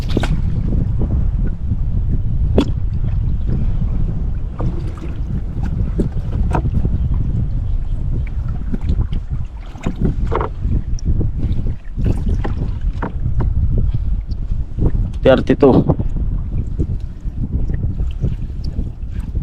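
Strong gusting wind buffets a drifting boat, a loud continuous low roar with scattered knocks and splashes, close and unbroken throughout.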